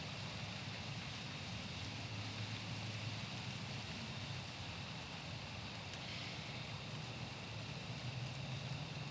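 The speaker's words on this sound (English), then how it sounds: "just started raining" Light rain falls outdoors as a faint, steady hiss with no breaks, soft and even throughout, with a low rumble underneath.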